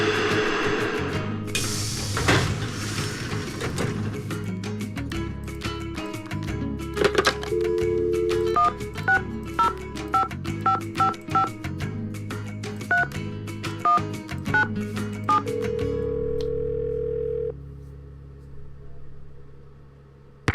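Telephone dialing tones beep in a quick series of short, distinct dual-tone presses over a background hum, followed by a longer held tone near the end.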